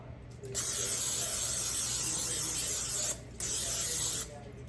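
A close, steady hiss of an aerosol cooking oil spray runs for a few seconds, stops briefly, then sprays again in a shorter burst.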